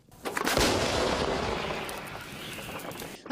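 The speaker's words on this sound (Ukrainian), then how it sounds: "Кілька маніпуляцій, і снаряд знову летить у бік окупантів" A European self-propelled artillery gun fires a shell near Vuhledar in freezing winter conditions, one loud close blast that rolls into a long decaying rumble and echo.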